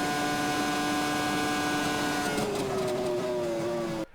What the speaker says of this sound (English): did you hear the car bottoming there?